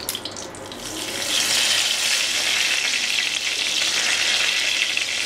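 Bay leaves dropped into hot ghee for chicken pulao set off a soft start followed by a loud, steady sizzle that fills the rest of the moment.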